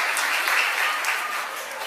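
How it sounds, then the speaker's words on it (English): Theatre audience at the Apollo Theatre clapping after a magic trick, a dense, steady burst of applause heard alone for about two seconds. "Clap if you want to see it again."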